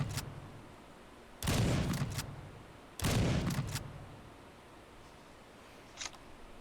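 Gunfire in the zombie video game Andromeda One Zombies, two loud bursts of rapid shots, each lasting about a second, with quieter gaps between them.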